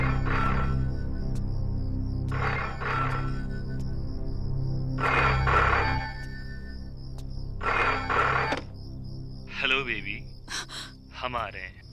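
A telephone rings again and again late at night in a Hindi film scene, with four clear ring bursts spaced a few seconds apart over a low music bed, then a brief gasp and breathy vocal sounds.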